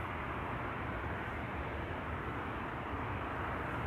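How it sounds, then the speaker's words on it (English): KLM Bombardier C-Series 100 airliner approaching at Schiphol Airport, a continuous broad engine rumble and rush, steady and moderately distant. "Now a beautiful Bombardier C-Series 100 on the right that is coming this way"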